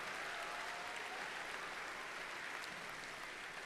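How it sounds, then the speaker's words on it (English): A large crowd applauds steadily at a robotics state championship in an arena, a dense, even wash of clapping lasting the whole moment, somewhat distant and uniform. "Let's give them a huge round of applause as well."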